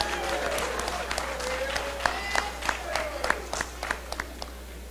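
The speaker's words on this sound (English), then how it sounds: "Another round of applause for our award winners, please." Audience applause for award winners at a university sports awards ceremony, a spread of scattered claps and crowd noise under an announcer's voice, with a few sharper individual claps standing out.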